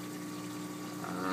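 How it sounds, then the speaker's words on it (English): A protein skimmer runs in the sump of a 60-gallon cube reef aquarium, making a constant, close hum of pump and churning water, steady and unbroken with no voices. "The protein skimmer's working pretty well."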